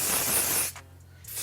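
A short, close burst of aerosol hair spray hisses for under a second onto a wig hairline, then stops, followed by a quieter pause and a faint second hiss.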